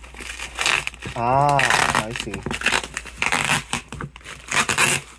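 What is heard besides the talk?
peeling open crinkly plastic packaging of a custom hitbox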